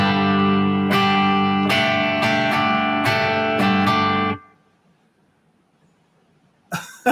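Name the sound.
guitar sus2 chord strummed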